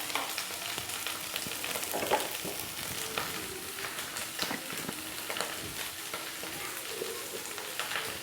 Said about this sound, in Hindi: आलू को फ्राई कर लेंगे